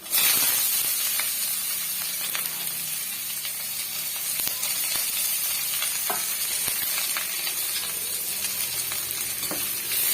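Loud, continuous sizzling of onions and chilies frying in oil, with scattered crackles and pops throughout, close and steady with no talking.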